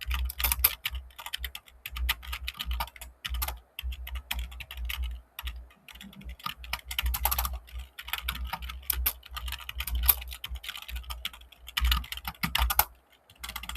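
Code is typed on a computer keyboard in fast, continuous bursts of close clicking keystrokes with brief pauses between runs, and no voices.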